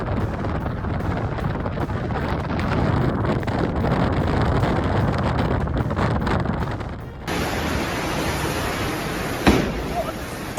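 Strong Storm Benjamin wind roars and buffets the microphone in heavy gusts, a loud rushing noise that briefly dips before surging again.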